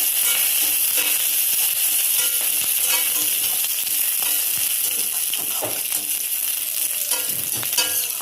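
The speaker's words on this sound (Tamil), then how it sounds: "நான் ஒரு கொத்து கருவேப்பிலை எடுத்துருக்கேன். அதை சேர்த்துக்கலாம். கருவேப்பிலை பொரியட்டும்." Curry leaves and onion fry in hot oil in a pan for peanut chutney, a loud, steady close-up sizzle with crackling and occasional scraping stirs throughout, no talking.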